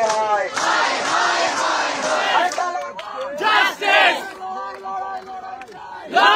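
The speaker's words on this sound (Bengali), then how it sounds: "জোরালো ভাবে ওঠে জাস্টিস ফর আরজিকর স্লোগান।" Protesting doctors chant "Justice for RG Kar" as a loud crowd, rhythmic shouted phrases rising and falling in repeated bursts, close and forceful.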